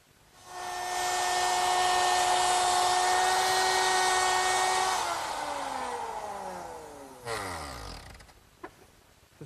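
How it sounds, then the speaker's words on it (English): Router fitted with a 1/4 inch slot cutting bit cuts slots in pine rails: a loud sustained high whine for several seconds, then the motor spins down with falling pitch, a brief knock following. "The slots are cut in the rails using a 1/4 inch slot cutting bit"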